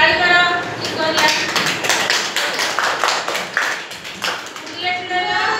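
A group claps in a classroom during a lesson on compass directions, a run of sharp, irregular hand claps spread over several seconds, mixed with nearby voices.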